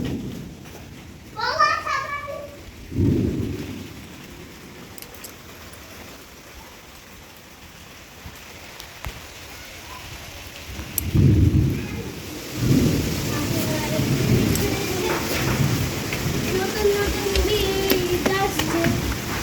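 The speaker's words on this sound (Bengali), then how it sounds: "বৃষ্টি শুরু হয়ে গেছে" Rain begins over a home during a thunderstorm: low rumbles of thunder roll in and out while rain patters steadily on surfaces, with a voice and other talk heard over it.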